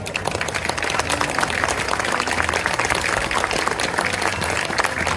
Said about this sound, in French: On peut les applaudir plus fort que ça